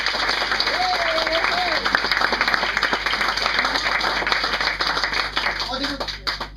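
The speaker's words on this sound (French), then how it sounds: "On peut applaudir Angel." An audience at a comedy club applauds a performer, a loud, sustained wall of clapping that fills the room, with a few voices briefly calling out over it before it starts to fade.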